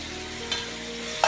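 Tomatoes sauté in a pan for chicken biryani, with a steady soft sizzle and a couple of scraping stirring strokes.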